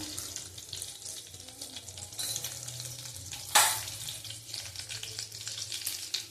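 Hot oil sizzles and crackles softly in a pan as black cumin seeds go in, making a faint, steady frying hiss with one brief sharp burst.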